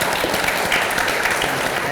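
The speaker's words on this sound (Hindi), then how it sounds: "और जोरदार तालियों के साथ हम इनको टाटा गुड बाय कहते हैं" A studio audience on a television show gives a round of loud, continuous clapping that fills the space as a voice talks over it.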